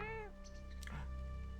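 A cat meows once in the video game Caves of Qud, a short rising-and-falling call, soft and close over a steady low background hum.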